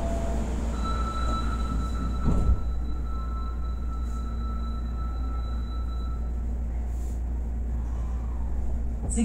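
Hankyu 1300 series local train bound for Kyoto-kawaramachi running steadily, a continuous low rumble with faint wheel squeal and high whine throughout, heard from inside the car with no talking.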